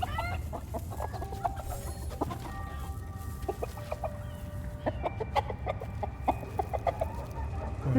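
Chickens in the dungeon-management game Dungeons 4 cluck repeatedly in short, irregular bursts, several birds close by over a busy low rumble of game ambience, with no talking.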